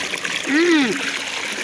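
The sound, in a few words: clean free-flowing water pouring without a pump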